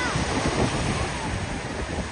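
Strong sea waves surging and breaking along a beach, a steady loud wash of surf mixed with wind buffeting the microphone, with a faint murmur of voices underneath.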